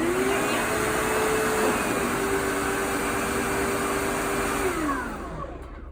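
A Sebo X4 upright vacuum cleaner runs with a loud, steady whine, then shuts down near the end as the motor pitch drops and the hum fades.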